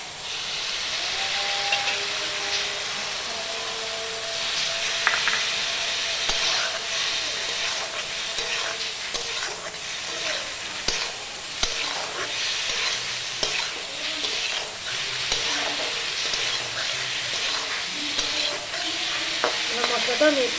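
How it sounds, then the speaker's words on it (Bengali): A watered spice paste of cumin, salt and turmeric is sautéed in a pan, hissing and sizzling loudly up close with bursts of steam and the scrape of stirring throughout. "মশলাটা আমি একটু কষিয়ে নেব।"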